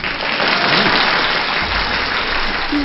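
Loud, steady clapping fills a podcast studio, a continuous close burst of applause with no pauses.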